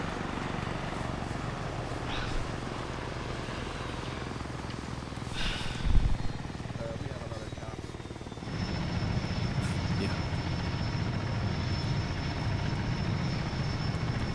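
Helicopter idling on the ground in Arma 3, a steady low engine and rotor drone, with a brief thump near the middle before the whine grows louder and fuller for the final stretch.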